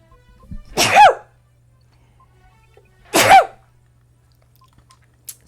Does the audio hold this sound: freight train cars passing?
no